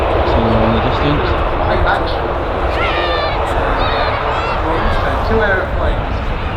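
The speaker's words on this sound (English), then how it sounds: "Two aeroplanes lining up to depart." Jet airliners roar steadily while taxiing and departing from a Manchester Airport runway, heard from a distance as a continuous broadband rumble, with voices and faint bird chirps over the noise.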